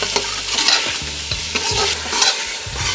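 Peas stir-fried in a pan while preparing aloo matar with eggs, giving a steady sizzle with repeated scraping and stirring strokes, close and fairly loud, with no voices.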